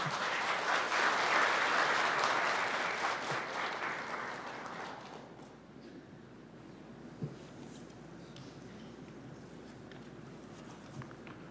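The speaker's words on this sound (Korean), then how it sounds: "여러분 뜨거운 박수 부탁드립니다" An audience applauds at a Labor Day ceremony held at the Blue House with the president and labor and employer union leaders, loud sustained clapping that fades away after about five seconds into quiet room noise with a few shuffles.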